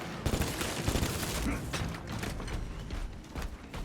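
Dense gunfire and clanking mechanical action from Space Marine 2, with the heroic bolt sniper rifle in play amid a busy battle, sharp cracks and rattling bursts layered over constant combat noise.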